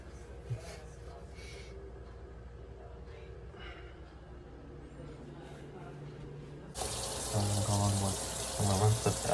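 Tap water runs steadily into a sink while hair is rinsed, the flow sounding quiet at first. It then swells into a louder, splashing gush near the end.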